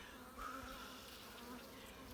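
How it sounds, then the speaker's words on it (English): Honey bees in an open hive after a long, cold spring, giving off a faint, steady, close buzzing drone that holds evenly throughout. "So the bees are getting ready."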